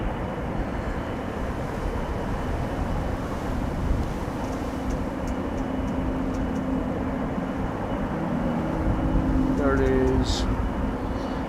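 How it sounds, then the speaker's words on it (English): United Airlines jet departing Amsterdam Schiphol in windy conditions, its engines a steady, loud broadband roar throughout, swelling slightly near the end, with brief talk over it. "I think it's United Airlines Flight 21 to Houston that we are hearing the engines from."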